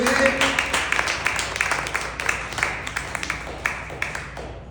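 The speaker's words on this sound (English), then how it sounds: "can we give a big round of applause for the people that came all the way from Yakima" An audience claps in a burst of applause, a dense patter of hand claps that thins into scattered individual claps as it goes on.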